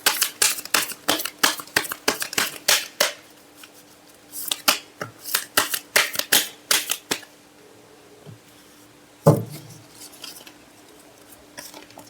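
Tarot cards being shuffled in quick riffling bursts, two long runs of crisp rapid flicks separated by a pause, with a single soft thump near the end; close and clear with no talking.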